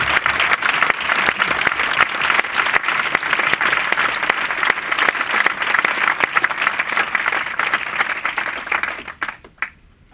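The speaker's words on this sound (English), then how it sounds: "the clapping. It's got to be better." An audience at a triathlon Q&A event claps continuously and loudly for about nine seconds, a dense, steady applause that thins out and fades to a few last claps at the end.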